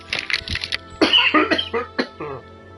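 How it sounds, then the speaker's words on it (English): A person coughs in several short, forceful bursts, a quick cluster followed by a few heavier, strained coughs, close and loud with a faint background hum. "I had an overwhelming urge to cough, and that hurt a lot."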